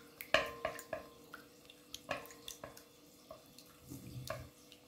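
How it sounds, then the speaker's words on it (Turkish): Tap water splashing in a kitchen sink while hands are washed between cooking steps, heard as irregular close splashes and drips over quiet background. "Ve elimi yıkayıp geliyorum sevgili dostlar."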